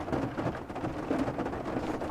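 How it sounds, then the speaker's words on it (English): Hail and rain fall during a storm in a soaked rainforest, a steady dense patter with scattered sharper taps and a low rumble underneath, constant throughout. "Just started hailing a moment ago."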